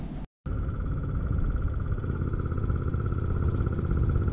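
A Royal Enfield Interceptor 650 motorcycle riding with a steady, loud engine drone and road rumble that holds constant after a brief dropout at the start.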